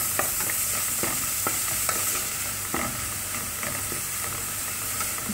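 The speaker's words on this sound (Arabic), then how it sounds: "نخلو البصل غير شويه يتقلى لنا معه مع التوابل" Onions fry with black pepper, cinnamon, salt and saffron in a pan, giving a steady, close sizzle and hiss broken by repeated clicks and scrapes from stirring.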